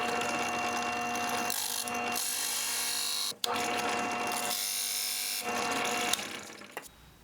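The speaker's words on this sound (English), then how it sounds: "So now I've got my 1 3/8 Forstner bit installed, and I'm going to cut the recess that I need for the outside ring." A 1 3/8-inch Forstner bit bores a recess into a wooden custom router base plate. A loud, continuous grinding whir runs in long passes, with short breaks between them and a final winding down.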